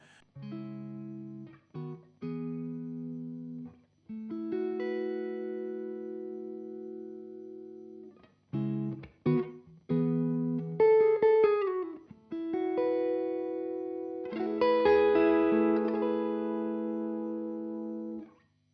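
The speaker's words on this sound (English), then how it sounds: "a clean crunch type of basic sound like this" Electric guitar with a lightly overdriven crunch tone plays ringing chords and short riffs, with pauses between phrases, up close.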